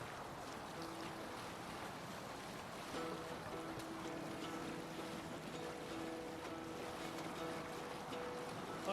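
A sailing ship moves across open water in Assassin's Creed Valhalla, with steady wind, lapping waves and hull wash forming a soft continuous bed of sound, and faint voices underneath.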